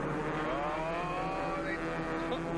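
Saturn showroom stock race cars at the 2000 SCCA Runoffs roar past on track, high engine whines rising and falling in pitch, loud and continuous.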